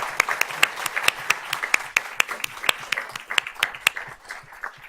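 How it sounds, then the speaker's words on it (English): Small audience at a school board of trustees honors meeting gives a volleyball player a round of applause; sparse, distinct claps from a modest group, rhythmic and close, loud and steady throughout. "give her a little round of applause."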